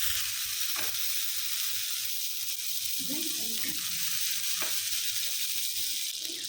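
A little butter melts in a pan with a soft, continuous sizzle and a few faint scrapes; a low voice murmurs briefly partway through.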